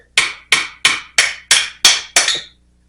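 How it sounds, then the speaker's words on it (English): A carburetor bowl on an old rear-engine Snapper mower is tapped loose with seven evenly spaced, sharp metallic knocks, each ringing briefly before the next, close up with no talking. "I'm going to try my best to just kind of gently knock this bowl loose"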